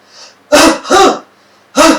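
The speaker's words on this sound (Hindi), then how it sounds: "तो ये जो जोर से वो खांसी कर रहा है" Three forceful, loud coughs up close, two quick harsh bursts back to back and a third after a short pause, performed as self-CPR.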